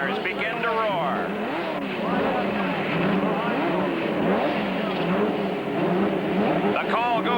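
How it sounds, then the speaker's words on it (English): Indy car engines roar around a street circuit in downtown Denver in 1990, loud continuous revving with rising and falling pitch sweeps as cars pass, while a commentator talks over the noise. "The Indy cars begin to roar."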